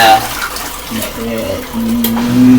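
An LG ThinQ MEGA Ultimate washer filling with water during the main wash of a normal cycle with a cold wash on heavy soil, giving a steady loud rush of inflowing water.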